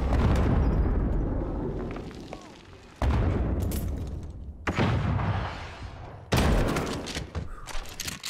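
Grenade blasts in Modern Warfare, played at max settings: several heavy booms land amid ongoing gunfire, with sharp broadband bursts at intervals and a dense rumbling background, loud and close.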